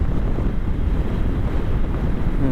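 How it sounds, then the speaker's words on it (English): Strong wind on a hot, windy day buffets the microphone in a continuous low roar, with heavy rumbling gusts and no voices. "And it is pretty windy today."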